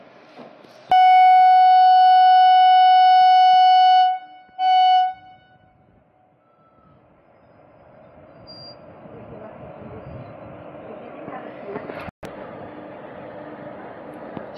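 Howrah–Azimganj Ganadevata Express pulling out of a short platform: a loud, steady horn blast of about three seconds with a brief second toot, followed by the low rumble of the departing train building up.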